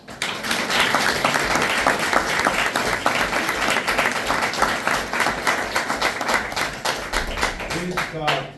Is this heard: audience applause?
yes